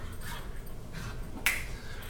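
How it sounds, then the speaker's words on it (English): Dogs wrestling in a room make faint, distant scuffling, with one brief, sharp yelp-like sound partway through and low background noise throughout. "Excuse my dogs wrestling in the background"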